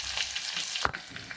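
Mustard seeds, shallots, dried chilli and curry leaves fry in hot oil for a Kerala-style moru curry, giving a steady close sizzle with a sharp pop near the middle and no talking.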